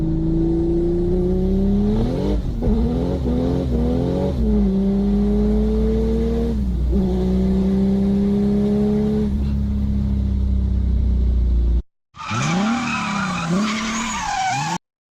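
A loud Mercedes OM606 inline-six diesel engine revs up and down repeatedly up close, its tone climbing and falling, then a short higher-pitched rev at the end.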